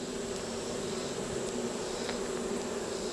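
Steady, close buzzing of many honey bees, a continuous droning hum with no other sounds.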